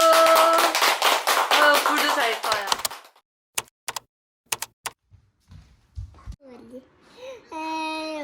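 A few sharp claps ring out after someone speaks, then scattered taps and voices follow, at a family celebration over a cake welcoming a grandmother.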